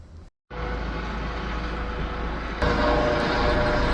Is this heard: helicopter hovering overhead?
yes